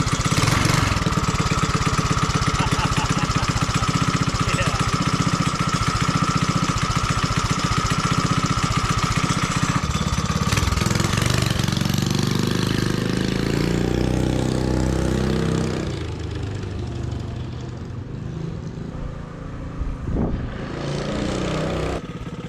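A small engine fitted with a new 2-liter gas tank starts and runs at a steady, loud, close idle. After about fifteen seconds it drops off and fades.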